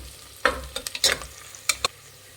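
Green chillies are stirred into fried onions in a pan, giving a few sharp, close spatula scrapes and clacks over a light sizzle, irregularly spaced within a couple of seconds, with no talking.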